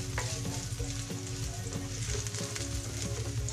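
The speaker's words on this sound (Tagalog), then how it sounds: "Haluhaluin ang pang natin para hindi masunog." Beef picadillo being stirred in a hot pan, a steady loud sizzle of frying running throughout with repeated scraping strokes of a utensil against the pan, no voices.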